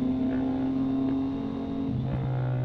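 A Triumph Street Triple R motorcycle engine and exhaust drone steadily at close range, the note shifting pitch partway through as the bike revs, with no clear backfire pops standing out.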